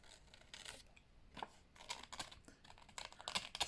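Scissors snipping a thumb hole in a paper page for a handmade journal, a series of quiet close cuts with light paper rustle between the snips.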